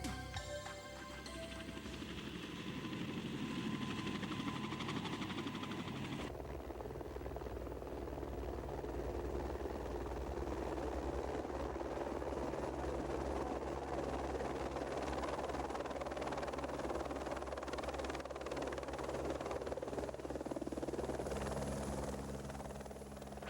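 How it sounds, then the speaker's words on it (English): A helicopter's rotor drones steadily overhead near Mendenhall Glacier in Alaska, loud and continuous with a low thrumming pulse throughout. "If you're traveling by helicopter"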